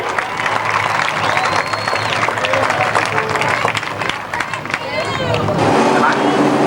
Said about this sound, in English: How about a big round of applause, John Strobel.